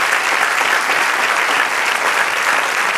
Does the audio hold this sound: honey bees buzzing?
no